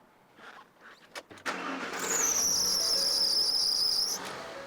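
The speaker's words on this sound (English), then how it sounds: "Ooh, slight squeal, but a squeal nevertheless." A car engine cranks and catches after sitting overnight, then runs with a thin, high, steady belt squeal for about two seconds before it eases off, heard close with no talk.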